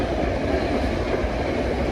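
A long freight train rolls past steadily on a main line, a dense continuous rumble of wheels and wagons close by, with no talking over it.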